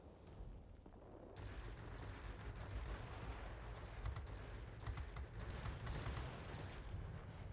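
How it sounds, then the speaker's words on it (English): Dense, sustained rumbling blasts and rattling crackle of bombs striking an enemy in an invasion mode video game, loud and continuous for several seconds with sharp bursts scattered throughout. "I think we hit him with both bombs,"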